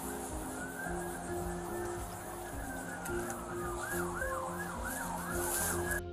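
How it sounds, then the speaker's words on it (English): Police car sirens wail continuously at full code, with rising and falling sweeps close by over traffic and road noise, and faint voices underneath. "these officers are still running full code lights and sirens"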